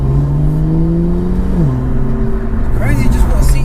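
A BMW M2 GTS with an exhaust tuned to about 430 bhp revs up close and loud, its pitch sliding down in a drop and then climbing again, with a voice speaking over it.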